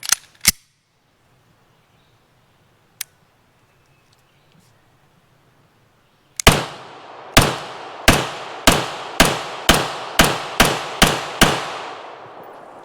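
A Beretta M9 pistol firing outdoors: two early shots and a lone distant report, then a fast run of about ten loud, sharp shots at a steady rhythm, each ringing out with a short echo.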